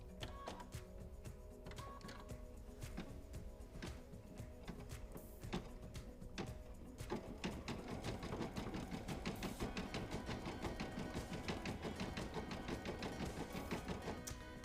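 A sewing machine stitches out a starfish motif for a sea life appliqué, a steady mechanical whirring with rapid needle chatter that grows busier and louder partway through, running continuously with no talk.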